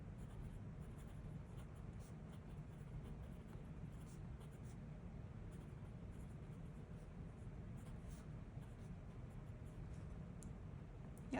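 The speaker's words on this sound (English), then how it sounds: "So let's see if it's writing yet." A fountain pen with a fine nib writes on paper, giving a soft, steady scratching that runs unbroken and close up at low volume throughout.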